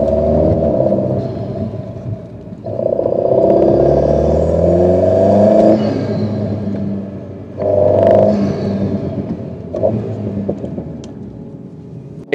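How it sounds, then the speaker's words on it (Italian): Alpine A110 GT four-cylinder turbo engine revving in two loud surges, with rising intake whoosh as boost builds and a short puff of blow-off on each release, heard close and without talk. "si può sentire benissimo il rumore di aspirazione man mano che va in pressione il turbo e poi lo sbuffo in rilascio"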